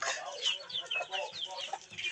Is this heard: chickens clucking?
yes